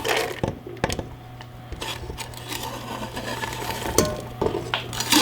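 Onions sizzle steadily in melted butter in a hot pan, close by, broken by sharp clinks and scrapes of a utensil stirring.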